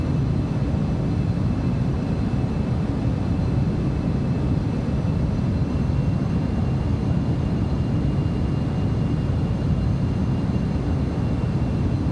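The engines of a BAe 146-200 airliner in flight in Microsoft Flight Simulator 2020 make a steady, broadband cabin roar with a faint high whine, unchanging and constant throughout.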